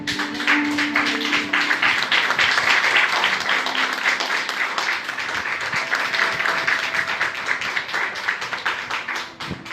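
A church congregation claps and applauds steadily, a dense sustained patter of many hands that swells and stays loud for several seconds.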